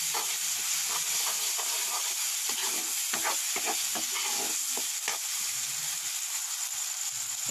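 Masala for a local chicken curry sizzles steadily in a pan on a wood-fire hearth as it fries until the oil separates, with a run of scraping stirs partway through and no voices.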